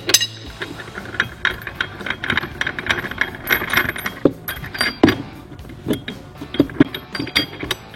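Mechanical clicks and metallic rattles from work on the clutch pulley bolt of a Ski-Doo pDrive clutch on a 2017 850 E-TEC snowmobile, scattered irregular ratchet-like ticks and clinks, fairly close, with no talk.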